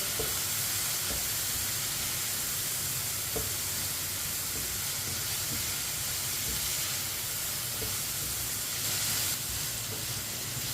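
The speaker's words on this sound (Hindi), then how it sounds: "अब इसे 4-5 मिनट के लिए पका लेंगे, फ्राई कर लेंगे इसे" Chicken pieces fry in a pan over low heat with a splash of vinegar, a continuous soft sizzle and hiss that runs steadily throughout, with no voices.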